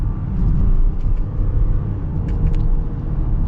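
A 2024 Honda Pilot Elite accelerates, its engine a smooth, steady low rumble heard from inside the cabin with a few faint ticks over it.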